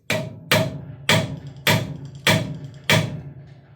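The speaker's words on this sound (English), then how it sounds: "Let's hit it with a hammer." Six sharp metallic hammer blows land on a socket fitted to an air compressor motor, evenly spaced about half a second apart, each ringing briefly before the next strike.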